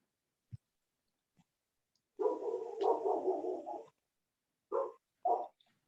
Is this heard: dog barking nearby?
yes